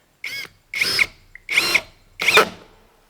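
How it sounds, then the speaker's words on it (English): A power driver sets screws into metal roofing, four short whirring bursts about half a second each with brief gaps, each rising to a strained whine as the screw seats, close and loud. "put in another set of these screws, trying to keep the screw as straight parallel with the metal as I can"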